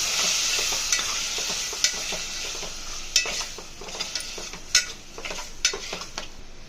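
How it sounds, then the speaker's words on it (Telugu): Tomatoes frying in hot oil and stirred for a spicy egg curry, giving a steady bright sizzle close up, punctuated by periodic sharp spoon scrapes and taps against the pan, with no voices. "టమాటాలని యాడ్ చేసుకుంటున్నాను ఆయిల్లో మధ్యలాగా బాగా కలుపుకోవాలి"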